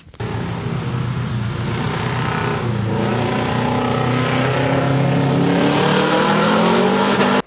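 A Subaru rally car pushed hard around a test track, its engine roaring loudly and continuously from close by as revs rise and fall through the gears, with no talk.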